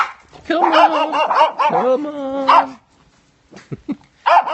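A dog barks in a quick series of loud, close barks and yips, followed by a pause and a few more short barks near the end.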